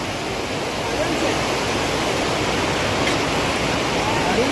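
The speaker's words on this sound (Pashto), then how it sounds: "دا د اوبو غږ خو لا" Stream water flows steadily at the Istalif picnic spot, a dense continuous rushing wash that stays even and fairly loud throughout with no clear voices over it.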